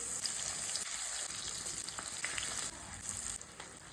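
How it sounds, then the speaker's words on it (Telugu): Masala-coated dried fish fries in oil on a chapati griddle, giving a steady close crackling sizzle with small pops throughout and no voices. "శుద్ధంగా క్లీన్ చేసుకుని మసాలా పూసుకున్న ఈ వట్టి చేపలని ఈ చపాతీ పెనుం పైన నూనె పోసి దోరగా వేయించుకుందాం"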